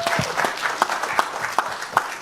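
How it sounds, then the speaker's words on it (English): An audience at a boxing promotion event applauds a former heavyweight champion, with steady clapping and a few sharper claps over about two seconds, fairly loud and close. "round of applause"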